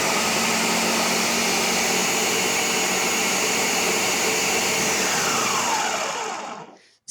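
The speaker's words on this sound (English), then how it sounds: "When the blender went on, the level exceeds 200 milligauss, which is extremely high." An electric household blender runs at full speed with a loud, steady motor whine and broadband roar for about six seconds, then spins down and cuts off near the end, with no talking.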